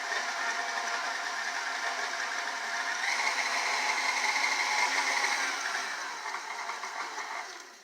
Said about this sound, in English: you want to lock in your mixer and start stirring